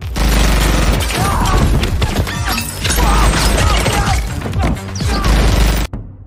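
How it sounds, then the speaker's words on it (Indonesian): Loud, dense bursts of gunfire mixed with crashes and impacts in an apartment shootout scene from the film Guns Akimbo, continuous and chaotic throughout, ending abruptly in silence. "ternyata di sana sudah ada Nix langsung menembaki Miles"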